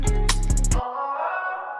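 A processed vocal hum with a few rhythmic pulses gives way to a sustained, airy ambient tone with a soft electronic wash, an ambient effect on a vocal ad lib in Logic Pro X.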